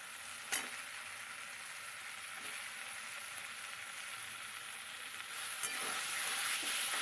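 Potato pieces frying in a spiced masala for a chitol fish curry, giving a steady broadband sizzle that carries on without a break and swells slightly toward the end, with one sharp stir or clatter near the start.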